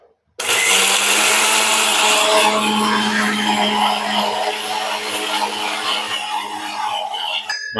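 Mixer grinder whirring as it grinds ingredients with a little water, a loud steady motor drone starting abruptly and running continuously to the end, close and without talk.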